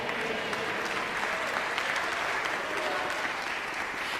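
A church congregation applauds during a sermon, with dense, even clapping holding steady throughout at moderate distance, with no voices over it.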